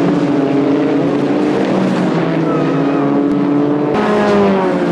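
Sports 2000 race cars at speed, loud engine notes whining and shifting pitch as several cars pass close by in a continuous rush.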